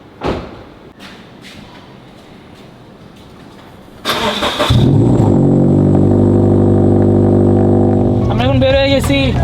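A Toyota 86 sports car after weeks unused: a few soft thumps, then the starter cranks briefly and the engine catches with a loud rev before settling into a steady, close idle, with a short electronic chime near the end.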